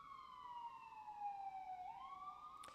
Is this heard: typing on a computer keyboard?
no